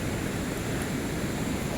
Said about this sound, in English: I think you can hear the water flowing from the river